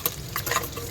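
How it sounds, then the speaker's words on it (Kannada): Mustard seeds, urad dal, dried chillies and curry leaves fry in ghee with a close, steady crackling sizzle and a stirring scrape, with no voices. "ಇದು ಬ್ರೌನ್ ಕಲರ್ ಬರುವವರೆಗೂ ಫ್ರೈ ಮಾಡ್ಕೊಳ್ಳೋಣ."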